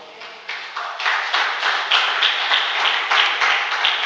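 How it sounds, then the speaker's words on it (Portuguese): Congregation in a church applauding in a dense, sustained round of clapping that swells within the first second and holds steady, loud and close. "Você pode aplaudir o Senhor?"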